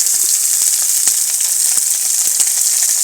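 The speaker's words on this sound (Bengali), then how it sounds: "আমি পেঁয়াজগুলা ভাজতেছি, কিছুটা ব্রাউন হয়ে আসছে" Onions sizzling loudly in hot oil with garlic and green chilies in a pan, a steady bright hiss with faint crackles and pops running throughout, close up and continuous.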